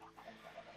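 Minecraft chickens cluck softly in the video game, a quiet string of short repeated clucks with no voices over them.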